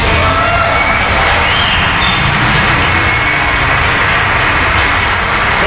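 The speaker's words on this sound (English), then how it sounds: "we're going to play a little drone ping pong, simply moving the drone between us" A small drone hovering and moving back and forth between people indoors, giving off a loud, continuous propeller whine and buzz that holds steady throughout.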